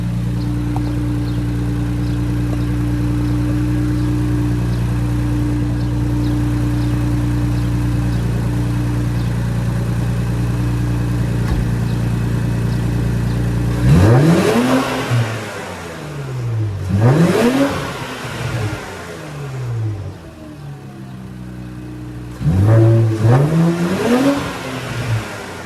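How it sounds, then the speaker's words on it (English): An Infiniti Q50 twin-turbo engine idles on a cold start with a steady low drone, then gets revved several times, each rev rising sharply and falling back, loud and close with no talk. "this is a cold start right now, and I'm gonna give you a little rev it up a little bit real quick"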